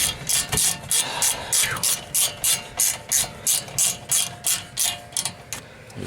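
A ratchet loosens bolts on the rear brakes of a 2016 Ford Fusion, clicking close and loud in quick, regular strokes, about a dozen in a row.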